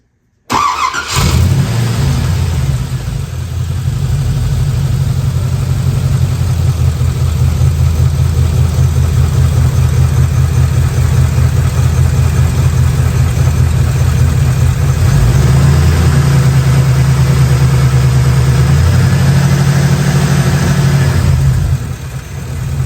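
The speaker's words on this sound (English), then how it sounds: "So I'm gonna go for a quick drive" A car with suspected rocker faults starts up and drives off, its engine a loud, close, steady low rumble that swells and eases with the throttle for the whole stretch, with no talk.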